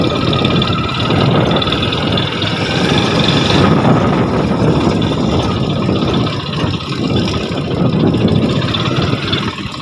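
A motorbike engine idles steadily up close, a constant low rumble with slight fluctuations throughout.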